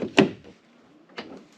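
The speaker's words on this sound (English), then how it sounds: "Step one, open your door." Door of a 2002-2009 Dodge Ram truck opening: a sharp latch click and thunk, then a second softer clunk about a second later, close and alone.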